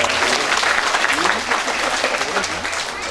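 An audience at a Balinese drama gong show claps loudly and continuously, with voices and crowd chatter mixed in under the dense applause.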